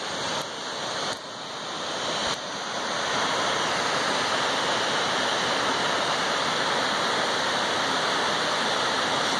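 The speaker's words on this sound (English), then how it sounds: "Tallest falls in Oregon." Constant broadband roar of a 266-foot waterfall, Munson Creek Falls in Oregon, steady and full, with a few faint clicks early on before the rush swells slightly louder.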